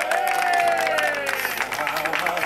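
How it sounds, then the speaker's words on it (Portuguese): Applause and cheering from a crowd at a birthday celebration, steady throughout, with voices and a sung or shouted tone riding over the clapping. "Palmas pro Maurício!"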